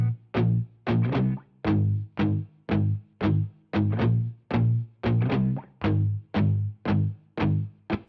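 Heavily driven electric guitars run through Mesa Boogie and Brit Valve Pre amp simulations with a Fender compressor, chugging out a steady, evenly spaced rhythm of loud, distorted chord stabs with no voices.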